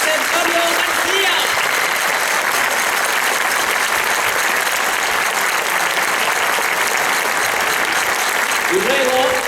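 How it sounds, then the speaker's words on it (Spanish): A loud round of sustained audience applause for presenter José Antonio García at an anniversary gala of Aragonese centres, the clapping dense and even throughout, with faint voices and brief tones surfacing beneath it. "yo quiero pedir un fortísimo aplauso para este gran presentador, José Antonio García"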